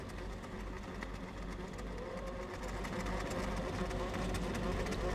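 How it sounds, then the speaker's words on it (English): Eight snocross racing snowmobiles sit at the starting line with engines idling, a dense, steady mechanical drone with a fine buzzing texture that holds loud and even throughout. "8 sleds to the starting line. You can hear the engines."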